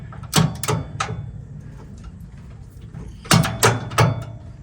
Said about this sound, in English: Tightening the 4th bolt that we added to it in the back.